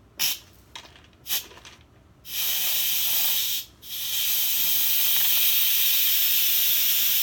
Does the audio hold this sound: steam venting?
yes